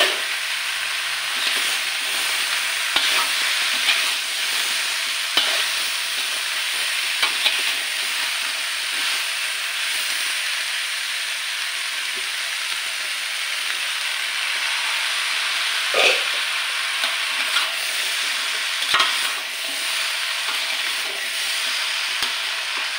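Cauliflower and peas fry in oil in a pan, giving a steady, even sizzle and hiss that carries through the whole stretch, with a few soft scrapes and knocks from stirring. No one talks over it.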